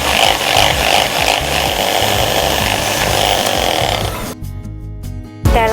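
An egg is beaten in a bowl in a home kitchen, making a loud, steady, motor-like whirring buzz that cuts off abruptly near the end, followed by a brief clatter.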